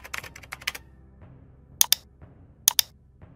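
Someone types on a computer keyboard: a quick flurry of close, crisp keystrokes, a pause, then two short pairs of sharper key clicks.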